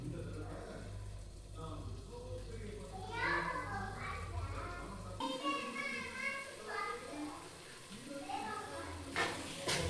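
Biryani masala with yogurt sautés in a pan, giving a steady, moderate sizzle under a spoken voice throughout, with the background hum dropping away midway.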